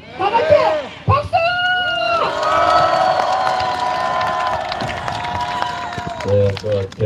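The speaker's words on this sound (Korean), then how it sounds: "다 같이 박수!" An audience at a talk on the Gyeongnam student human rights ordinance claps and cheers for about seven seconds. Loud shouting voices rise over the clapping, and a burst of sound near the end overlaps the crowd noise.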